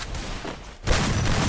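Gunfire in a Free Fire style custom match shooter game, a dense burst of shots with a brief lull before a loud second volley, heard without talk.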